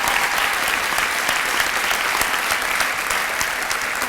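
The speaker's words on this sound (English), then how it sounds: "a big round of applause for our first 13" Sustained applause from an audience at the 2017 Pride of Peoria and Raymond S. Kellis leadership awards ceremony, dense and even clapping throughout from a large crowd.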